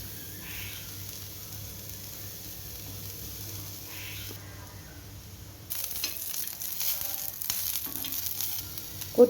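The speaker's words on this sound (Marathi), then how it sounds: "कांदा, लसूण, अद्रक, खोबरं, धने, जिरं, हिरवी मिरची, टमाटर हे सगळं भाजून घेऊ" Onion, garlic, ginger, coconut, coriander seeds, cumin, green chilli and tomato dry-roasting in a pan for kofta masala, a soft continuous sizzle that grows busier and louder in the second half with light stirring scrapes.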